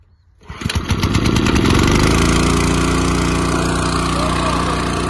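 A motorcycle engine starts up close by and settles into a loud, steady running drone that lasts several seconds, heard outdoors near a river.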